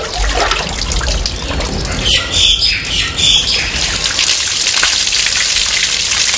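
Water pours constantly from a well used for bathing and washing clothes, giving a loud, steady splashing gush throughout, with faint birdsong and a few brief higher chirps above it; no one speaks.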